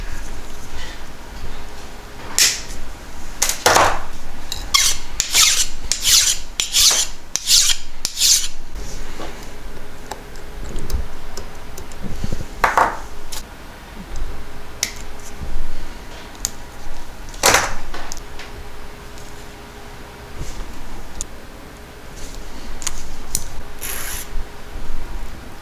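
Hand filing of a metal rail point and bevel for a model railway turnout, heard as bursts of rasping strokes, some quick and rhythmic and some slower with pauses, close and fairly loud.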